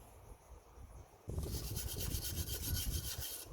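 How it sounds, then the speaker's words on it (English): A wire brush scrubs loose rust off a broken rear coil spring from a Toyota Corolla. The strokes are rapid, rhythmic and scratchy, close and moderately loud, starting abruptly after a quiet moment and going on steadily. "We're going to use a wire brush to remove all the loose rust."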